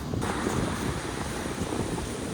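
Surf and gusting wind at the point of Caraíva beach in Bahia, where the river meets the sea, forming a steady, dense wash of waves with low rumbling and no voices.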